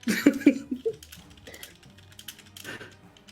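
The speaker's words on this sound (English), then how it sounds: "He's typing." Rapid typing on a computer keyboard in a room during a tabletop role-playing session, with quick bursts of key clicks. Louder clatter comes near the start and then fades into softer taps, while people chat in the background.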